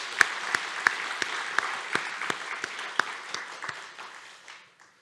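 Church congregation applauding the choir and orchestra during a Sunday worship service: steady clapping with sharper individual claps on top, sustained for several seconds before tapering off into quiet.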